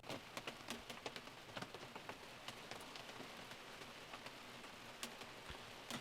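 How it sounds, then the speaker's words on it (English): Steady rain patters on a surface, a soft even hiss dotted with sharper individual drops, quiet and continuous with no voices. "So we just listen to the rain on its own."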